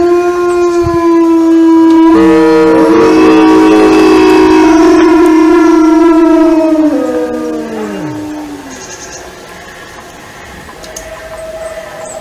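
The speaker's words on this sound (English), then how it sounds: "So those wolves, those you could hear, were responding to other wolves in the distance" Wolves howling, long rising and falling howls overlapping as several animals join in, loud and near at first, then fading to a faint distant howl.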